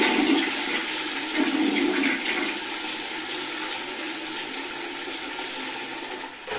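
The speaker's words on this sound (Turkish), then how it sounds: "Mesela basıyorsunuz bu şekilde sifona." A toilet is flushed and water rushes out of the cistern, a loud, steady broadband gush close to the microphone that holds for several seconds and eases only slightly toward the end.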